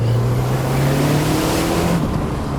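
Turbocharged Lancia Delta Integrale Evo 2 engine pulling hard under acceleration, a loud steady drone with rising pitch and road noise throughout, close-up with no talking.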